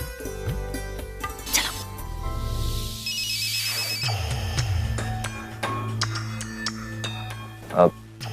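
A telephone ringtone in a Hindi TV drama scene chimes in repeated bright electronic bursts over a bed of dramatic background music, fairly close and clear.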